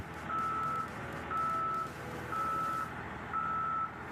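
A new SANY SMG200C-8 motor grader on transport tyres backs out of a shipping container, its reversing alarm sounding four steady, evenly spaced beeps over a low engine rumble.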